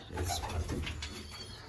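Racing pigeons coo softly from a loft, low throaty coos repeating over a steady background hum, moderately near.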